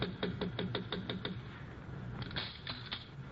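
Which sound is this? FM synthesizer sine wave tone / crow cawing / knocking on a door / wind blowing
knocking on a door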